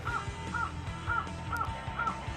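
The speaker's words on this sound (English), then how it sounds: "you can hear that the crow here" A crow caws five times in an even, repeating rhythm, clear and moderately near, over a low background of city and construction rumble.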